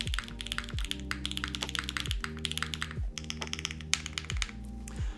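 Rapid mechanical keyboard typing on a Mode Envoy fitted with Key Kobo keycaps, a dense close-up clatter of keystrokes running steadily throughout, with occasional heavier spacebar-like thocks and a low musical tone humming underneath.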